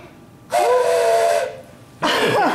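Two loud, breathy blasts from a green whistle, the first held about a second, the second starting after a short pause, shrill and hissy up close.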